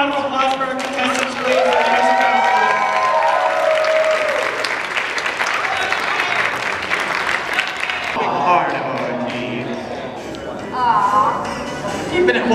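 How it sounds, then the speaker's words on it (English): Audience applauding contestants at a cider festival event, steady clapping with some cheering that swells and fades over about twelve seconds, with a voice speaking over part of it. "Give another round of applause for our contestants"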